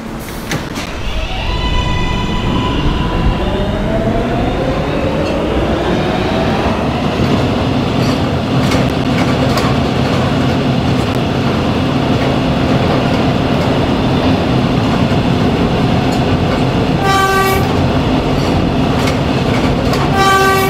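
An R143 subway car on the R local line runs steadily and loud throughout, with a rising motor whine as it pulls away, a continuous rumble, rhythmic wheel clatter over rail joints, and a brief horn-like tone near the end.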